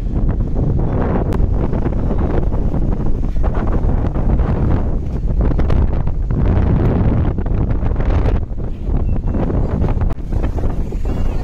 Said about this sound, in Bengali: আর প্রচুর হাওয়া দিচ্ছে।